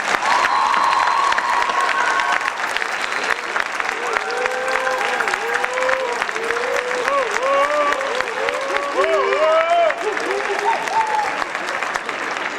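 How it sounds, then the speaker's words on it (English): A school auditorium audience in Oxnard applauds and cheers loudly for a guest lecturer, with continuous clapping, whoops and shouting voices rising over it across the whole stretch. "give a nice Oxnard round of applause for Mr. Lou Gosset Jr."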